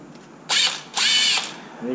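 A power drill in an XMAXX 8s RC car rebuild runs in two short whirring bursts, loud and close, pushing screws out, with a brief tool sound at the end.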